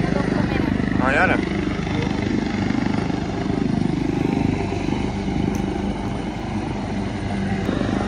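A helicopter drones steadily in the background on a Palma street by the beach, a constant low rumble running the whole time while people talk over it.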